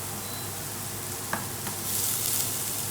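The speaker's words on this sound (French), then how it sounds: "j'ai mis mon beurre, je mets mes petits oignons ciselés, je les fais revenir." Finely chopped onions sauté in butter in a pan for rice pilaf, giving a steady, soft sizzle with a couple of brief stirring scrapes, the frying growing a little brighter toward the end.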